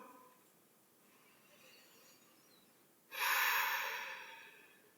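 A person breathing while holding a post-workout stretch, faint quiet breaths at first, then one loud, close exhale or sigh lasting a couple of seconds near the end.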